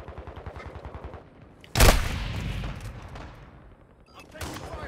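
Gunfire in Call of Duty: Modern Warfare II: a rapid run of automatic shots, then a single loud blast with a long rumbling decay, with more bursts at the end, close and punchy amid game noise.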